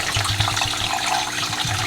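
Pumped water flowing through a 3D printed vertical hydroponic lettuce system, a steady close trickling and splashing rush with a low rhythmic pump pulse underneath.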